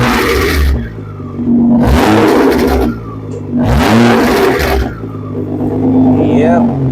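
Engine of a 2008 Nissan GT-R R35 revving hard in three loud, rising bursts, each falling back to a steady idle between them, with voices talking over the idle.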